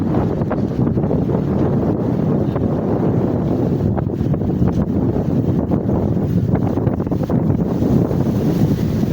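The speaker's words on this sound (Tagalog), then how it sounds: "Lakas ng hangin guys." Strong wind buffets a microphone beside a roadside where a motorcycle with a flat tire is stopped, producing loud, continuous low rumbling gusts with no voices.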